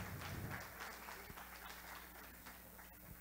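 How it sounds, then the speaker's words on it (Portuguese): Applause from a church congregation welcoming a teacher at a Sunday school service, a steady, moderately faint wash of clapping that gradually tapers off over a few seconds. "agora quero pedir a você que nesta manhã receba com um aplauso pela vida na nossa professora desta manhã, Edilene Corrêa"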